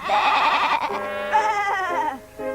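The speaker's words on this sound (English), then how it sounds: "No, Dash, this is how you talk to a sheep" A cartoon sheep gives a loud, wavering bleat in an animated series, followed by a second shorter bleat, close and clear with no talk.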